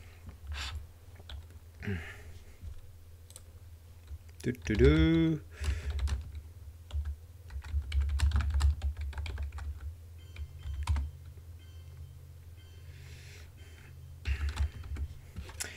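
Someone typing a chat message on a computer keyboard, with quick bursts of soft key clicks over a low room hum and a brief chirpy tone partway through.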